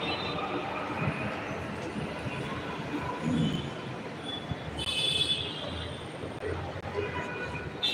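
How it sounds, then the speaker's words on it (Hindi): A metro train rumbles through District Centre metro station, loud and close, with wheels clattering and a brief high squeal partway through. "दोस्तों ये है डिस्ट्रिक्ट सेंटर मेट्रो स्टेशन"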